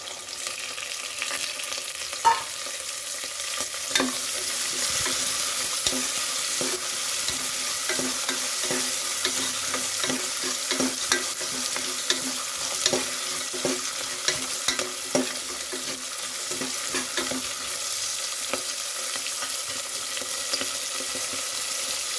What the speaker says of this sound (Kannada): ಈಗ ಇದಕ್ಕೆ ಹಸಿ ಕಾಳು ಹಾಕಿಬಿಡೋದು.